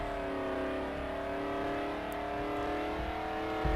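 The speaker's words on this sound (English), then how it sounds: "Engine's definitely a bit too loud" A car engine in a racing video game holds a steady, droning rev with layered harmonic whine, loud and continuous, with slight rises in pitch and no voices.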